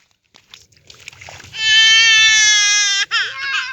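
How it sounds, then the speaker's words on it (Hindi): Children crying after slipping in water on a family picnic outing: after a few quiet knocks and rustles, one child bursts into a loud, sustained, close wail that breaks off briefly and then resumes. "ये दोनों बच्चे पानी में फिसल कर रो रहे हैं।"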